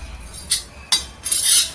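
Dry grated coconut roasts in a pan while a spoon stirs and scrapes against the metal, giving a few sharp clinks and a longer scraping rustle near the end, close and fairly loud.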